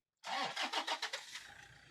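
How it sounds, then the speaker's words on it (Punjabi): A Toyota Innova at a used car market in Punjab starts up close and loud: a quick run of cranking pulses catches, then settles into a fading idle within about two seconds. "ਆ ਕਾਰ ਸਟਾਰਟ ਐ ਇਸ ਟਾਈਮ"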